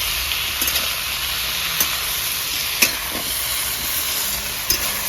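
Onions fry in a pan over a rustic village cooking fire with a steady, close, hissing sizzle, broken by a few light clicks from stirring.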